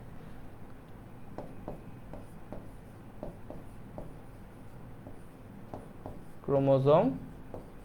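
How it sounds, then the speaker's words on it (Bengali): Chromosome notes being written during a biology lesson, soft scratchy strokes repeating every half second or so, quiet and close, before someone speaks briefly at the end. "ভাই একটু লিখতে ভুলে গেছি"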